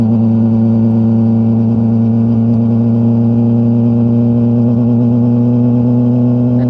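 While a Yamaha R6 motorcycle is ridden, its engine hums loud and close at an even cruising pitch, a continuous whirring drone with no talking.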